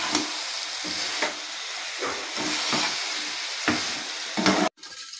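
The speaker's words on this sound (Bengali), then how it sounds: "এবার চিনিটা যতক্ষণ গলবে ততক্ষণ একটু নাড়াচাড়া করবো" Greens cooked with sugar are stirred in a hot pan, rhythmic scrapes recurring every second or so over a constant close sizzle and hiss, ending abruptly.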